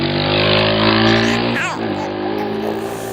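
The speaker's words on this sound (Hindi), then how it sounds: "ये कौन कमबख्त है जो पूरे 10 बजे स्कूटर लेके यहाँ से गुजरता है" A scooter passes by, its engine tone loud and steady at first, then dipping sharply as it goes past, with a fainter tail trailing off; a voice speaks over it.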